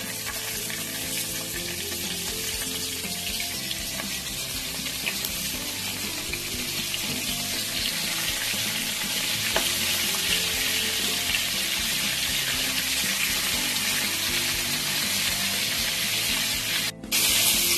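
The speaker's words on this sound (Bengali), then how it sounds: "গলদা চিংড়িগুলো আমি এবার ভেজে নেব।" Giant freshwater prawns fry in oil in a pan, giving a steady, close, bright sizzling hiss that runs throughout, with a short break near the end.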